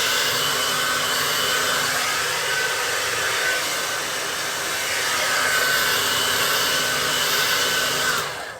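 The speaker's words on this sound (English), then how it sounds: "I personally like to do this quickly, but I use a blow dryer on my hair." A handheld blow dryer drying hair, a loud steady close-up whoosh of motor and airflow that runs unbroken for over eight seconds before cutting off, with no talking.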